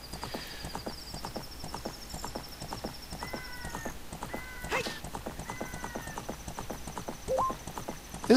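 Epona, the horse in The Legend of Zelda: Ocarina of Time, gallops in a steady, quick clip-clop of hooves, with occasional short whinnies and chiming game effects layered over the rhythmic stride.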